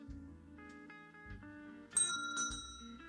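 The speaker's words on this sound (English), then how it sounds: "Oh, the bell is still there." A bell in a VRChat world rings in a game scene, bright metallic tones repeating in several strikes, with a louder cluster of ringing near the end.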